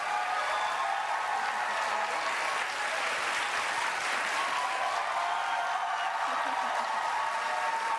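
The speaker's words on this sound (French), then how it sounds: "C'est pour toi, ces applaudissements, Vanessa." Sustained studio audience applause fills a French reality-show gala (Loft Story 3, 2006), a dense, steady wash of many hands clapping at even loudness throughout with no pauses.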